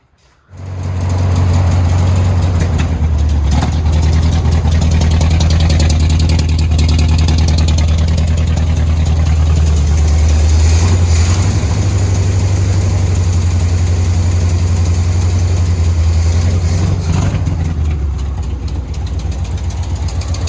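A 1955 Ford COE truck engine fires up and runs with a heavy, low, slightly knocking idle, loud and close, holding steady for a long stretch with a few swells of revving before easing down at the end.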